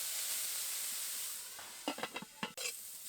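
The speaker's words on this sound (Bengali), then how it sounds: "চাপা দিয়ে দিয়ে রান্না করছি তাতে করে ব্রোকলির মধ্যে থেকে একটা জল বেরোয়" Broccoli cooking covered in a pan gives a steady soft hiss of steam, close and low, broken near the end by a few quick clinks and scrapes.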